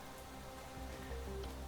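Steady rain patters on surfaces in the Planet Crafter game world, a soft continuous wash with scattered droplet ticks and no talking.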